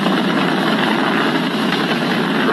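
SpaceX Falcon 9 rocket engines roar during launch as the vehicle throttles down toward maximum dynamic pressure. The sound is a loud, continuous broadband rumble with no breaks.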